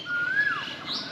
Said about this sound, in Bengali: মানে পাখি ডাকার শব্দ শোনা যাচ্ছে